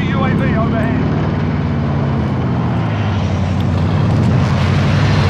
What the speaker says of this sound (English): Chopper just got up in there.